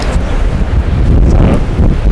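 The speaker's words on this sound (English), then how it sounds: "it's very, very windy out here, as you can hear and tell" Strong wind blasting across the microphone outdoors in a winter garden, a loud continuous low rumble with gusty swells and no pauses.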